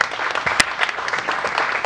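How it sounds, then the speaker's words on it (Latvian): An audience applauds to welcome an academic speaker at a memorial plaque unveiling in a Tex-Mex restaurant, a short, steady, close burst of clapping. "Saņemiet arī viņu ar aplausiem"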